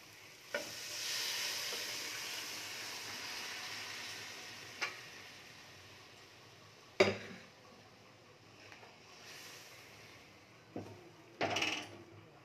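Boiled kidney beans are added to fried spice masala in a pan. Steady frying sizzle and stirring run throughout, broken by a few sharp clinks and taps of a utensil against the pan.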